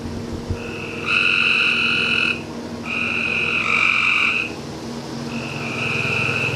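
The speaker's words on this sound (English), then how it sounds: "Ignore those croaking sounds. We got a lot of frogs down here" A chorus of frogs croaks loud and near around a small garage, long trilling calls that start and stop in three bursts over a low, steady background hum.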